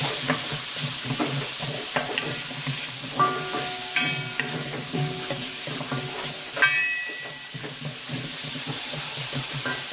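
Squash pieces tossed into a hot pan for Filipino ginataang gulay, stirred with steady scraping over a continuous close sizzle and frying hiss, with brief louder bursts as the vegetables hit the oil.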